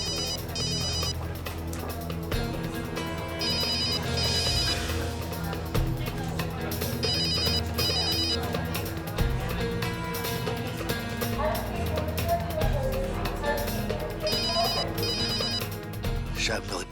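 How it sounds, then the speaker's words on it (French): A phone ringtone repeats in regular bursts of electronic ringing, steady and fairly loud over a continuous background hum. "Je vais essayer le portable de Chad."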